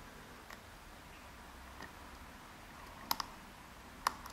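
Faint, sparse clicks from pins inside a Yale Platinum lock as it is picked, a few soft ticks early on, then two sharper clicks near the end over a quiet background.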